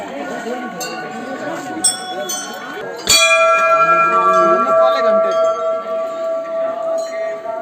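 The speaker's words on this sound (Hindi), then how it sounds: "तो ये वो घंटियां हैं जो लोगों की मनोकामनाएं पूरी होने पर लोगों ने इस मंदिर में चढ़ाई हैं।" Many brass bells offered by devotees ring at the entrance of the Tadkeshwar Mahadev temple, giving layered metallic strikes with long sustained tones that grow louder midway, with crowd voices and murmuring underneath.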